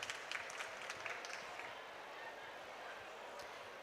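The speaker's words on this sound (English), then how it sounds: "A round of applause for him." Audience applause for an honoree at a COP27 youth adaptation solutions challenge, a steady round of clapping from a crowd, louder at first and then settling at an even level.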